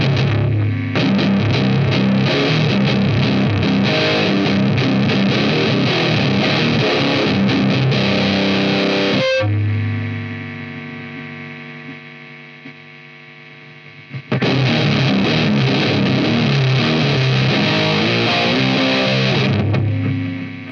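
An electric guitar played through a Twinote Boogie distortion pedal, cranked, loud and saturated chords ringing, one note fading out mid-way before heavy playing resumes.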